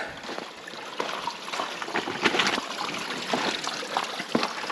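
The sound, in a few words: water trickling from a mountain spring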